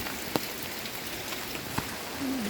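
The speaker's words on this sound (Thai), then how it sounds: "ฝนตกแต่เช้าเลย" Early-morning rain falls steadily over a backyard fish pond, a dense even hiss with a few louder drops tapping close by.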